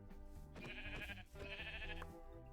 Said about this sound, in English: The sheep is coming with them.